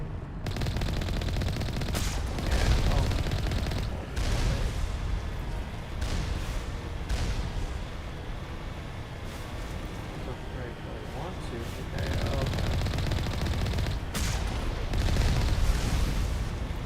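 Rapid gunfire and weapon blasts in the video game Mass Effect Legendary Edition, pistols in use, sounding in dense, nearly continuous bursts with louder surges throughout under busy game audio.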